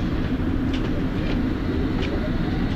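A London Underground District Line train running between West Brompton and Fulham Broadway, heard from inside as a steady, loud low rumble and rail roar with faint squeals over the motion.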